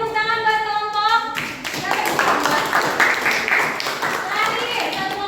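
Classroom students clap for a presenting group, a lively patter of many hands that starts after a short musical or tonal sound and continues at a steady level, with some voices mixed in.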